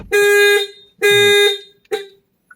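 A Kia Sonet car alarm, triggered by opening the door, blares in two loud, harsh honks, followed by a short clipped third blast, then silence.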